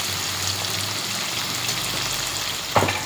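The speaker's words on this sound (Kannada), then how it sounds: "ಕೈ ಎಣ್ಣೆ ಸಿಡಿಲತ್ತ ನನ್ನ ಕೈ" Hot oil spatters and crackles steadily while frying for egg biryani, a dense, close sizzle running throughout without pause, with one brief louder burst near the end.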